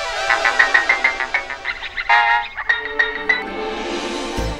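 A phone rings with an electronic ringtone melody of quick repeated bright notes that shifts to a new phrase partway through, loud and close with no talk over it.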